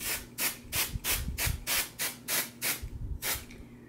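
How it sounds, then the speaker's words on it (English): Root touch-up hair color spray in dark to medium blonde, sprayed in about nine quick, even hissing bursts with short pauses between them, close and loud, with faint low rustling underneath. "I'm just going to spray it here."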